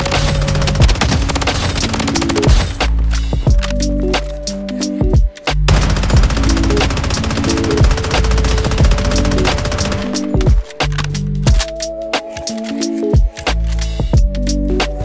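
Rapid automatic fire from the URB gun in the shooter game Project Bloodstrike, with loud sustained bursts of gunshots broken by brief pauses.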